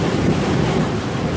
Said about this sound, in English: nothing is blocking the waves to come in